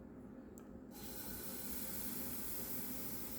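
A third of a cup of plantain pancake batter is poured into a preheated, oiled pan, and a soft hiss rises into a steady, even sizzle, heard close and alone.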